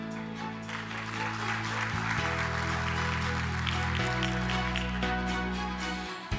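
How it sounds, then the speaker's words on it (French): A conference audience claps steadily for several seconds, a dense wash of applause under background music with sustained low tones. "Donc j'appelle sous vos applaudissements alors Madame Roqiya Belkbir"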